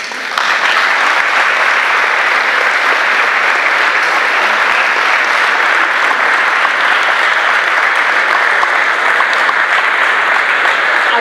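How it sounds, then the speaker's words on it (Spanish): Sustained, dense audience applause at a flag ceremony welcoming the provincial flag bearers, steady and loud throughout with no pauses. "las recibimos con un fuerte aplauso."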